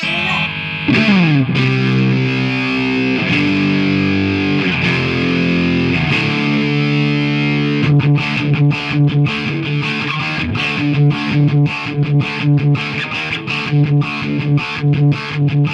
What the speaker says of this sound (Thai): ใส่เสียงแตกเข้าไป